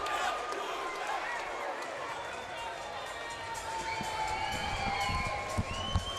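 A fight-night crowd at FAC 26 roars and cheers in a sustained wash of noise, with scattered whoops, claps and shouted voices throughout and a couple of sharper thumps near the end.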